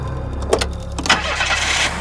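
A stalled cartoon car's engine starts up by itself in a Pingu episode, a brief cranking catch followed by a steady, fairly loud rumbling run with no voices.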